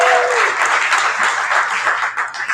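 An audience applauds five founders at a Seattle startup pitch event, a steady wash of clapping that holds at an even, fairly loud level throughout with no voices breaking through.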